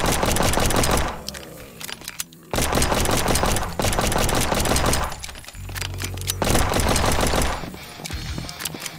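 Rapid bursts of automatic weapon fire in the zombie shooter game Ultimate Zombie Defense, loud rattling volleys broken by short pauses, with no voices.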